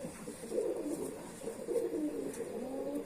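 Held pigeon cooing softly in repeated low murmuring phrases, close and quiet, with no other sounds.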